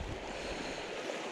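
A trout-fishing creek gives a soft, steady rush of flowing water, faint and continuous with no voices.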